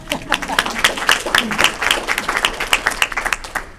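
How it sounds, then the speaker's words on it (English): An audience at a lecture claps together in a dense, lively patter of handclaps, with a voice talking over it. "Let's clap that up."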